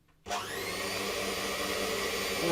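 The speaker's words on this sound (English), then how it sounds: "I'm just going to give that a little whiz up with my electric mixer" An electric mixer starts up and whirs steadily through carrot cake batter, a loud, continuous motor whine close by with no speech.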